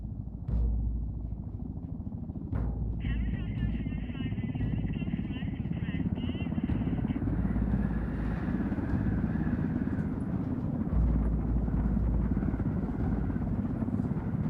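Helicopter from the video game Ghost Recon Wildlands, a steady low rotor drone running throughout at moderate level, with a radio-style voice talking over it partway through.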